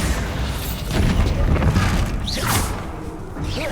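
A Bombarda blasting spell goes off in a Harry Potter wizarding video game: a deep, booming explosion with a whooshing burst and crashing debris, loud and near, set among other spell effects.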